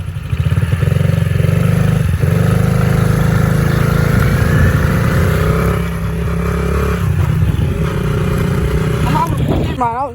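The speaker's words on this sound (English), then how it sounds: "I'm gonna have to kickstart this thing." A dirt bike engine runs steadily and loudly up close, a rough buzzing drone with slight shifts in pitch, while excited voices talk over it.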